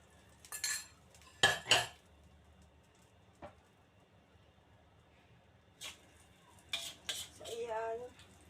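A utensil scrapes and clinks against a frying pan as egg with shrimp is stirred, giving several short clattering bursts between quiet gaps, with a faint sizzle underneath.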